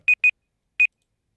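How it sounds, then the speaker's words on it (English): A study timer alarm gives three short, clean electronic beeps: two in quick succession, then one more after a pause. They are crisp and loud against silence. "So that's the timer over."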